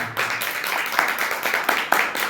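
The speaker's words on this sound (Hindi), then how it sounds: "ताली बजा के प्रभु के नाम बता।" A church congregation claps hands together in a quick, even rhythm, a dense close patter of many palms, with a voice briefly audible amid the clapping.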